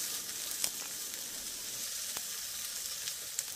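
Tomatoes wilting in a hot pan during a Filipino stir-fry of Baguio beans give a steady, even sizzle throughout, with a couple of faint clinks of the utensil.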